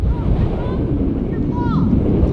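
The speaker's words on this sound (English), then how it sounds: "I was wondering if Juno is just always this windy" Strong gusty wind in Juneau, Alaska buffets the microphone in a continuous low roar, with faint tonal whistles drifting through.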